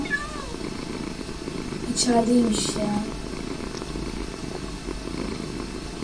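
A cat in Minecraft gives a soft purr and a brief meow near the middle, under someone speaking Turkish over low background noise.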